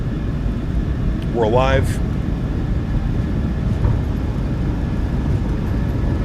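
Boeing 737-800 jet engines in a flight simulator spool at takeoff power on a runway in Anchorage, a steady loud broadband roar with rumble, and a brief spoken remark over it.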